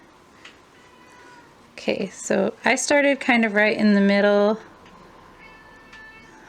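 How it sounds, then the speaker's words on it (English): A house cat meows insistently and loudly in several drawn-out, pleading calls, wanting to go outside, while a person talks briefly before the cries. "I'm really sorry about my cat."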